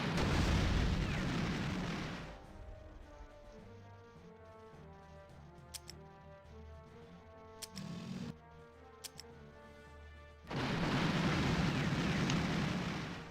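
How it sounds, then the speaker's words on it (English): Artillery fire in the wargame People's General, Six Day War 1967 scenario: dense rumbling bursts open and close the stretch, with a quieter middle of faint ticking and a few soft thuds. "I'm really trying to shut down that Egyptian artillery."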